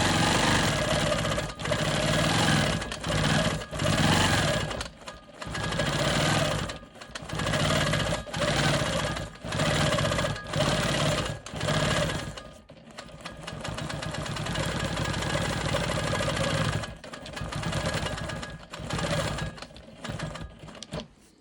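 A Quilt Maker Pro 20 sewing machine stitches in the ditch along a diagonal quilt seam, its steady loud motor whirring in bursts separated by short pauses, then running longer and more continuously, with no voices.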